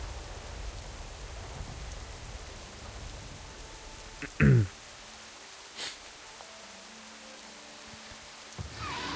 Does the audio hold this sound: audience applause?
no